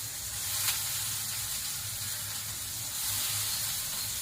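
A small onion, finely chopped, fries in oil with garlic nearby, giving a steady, close broadband sizzle that holds fairly even throughout, with no voices.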